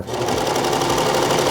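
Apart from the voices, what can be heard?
Baby Lock serger sewing fabric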